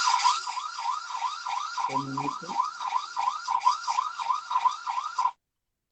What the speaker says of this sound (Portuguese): estamos tendo problemas com o alarme